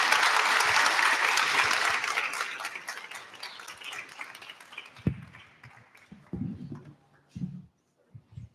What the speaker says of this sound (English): One more round of applause for our Ingenious Plus national winners.